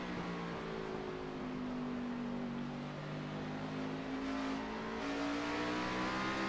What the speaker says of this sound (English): You can hear that throttle